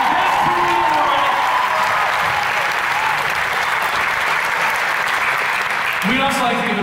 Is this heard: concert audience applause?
yes